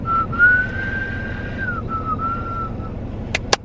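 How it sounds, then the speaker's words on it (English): A person whistles a single long, wavering note, then a second shorter one, close and clear over faint background hum, and the clip ends with two sharp clicks. "I can whistle a little bit"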